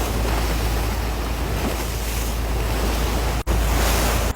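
Boat running across calm open sea, with a steady broad wash of water and wind noise on the microphone, loud and constant, with a brief dropout near the end.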